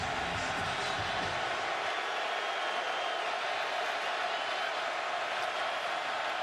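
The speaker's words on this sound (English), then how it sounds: "now they got the crowd into it really for the first time tonight" A stadium crowd roars steadily at a Michigan at Minnesota college football game, a broad, continuous wall of cheering that stays loud and even throughout, with low rumble fading after the first couple of seconds.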